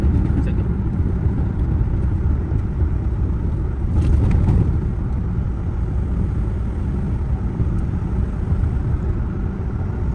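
Tow truck engine rumbling steadily while driving along Mittraphap Road (Highway 304) in Thailand, a continuous close low drone with road noise throughout.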